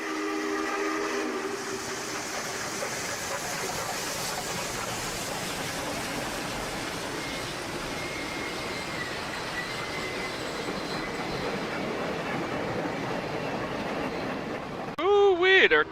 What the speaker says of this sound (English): Excellent whistle.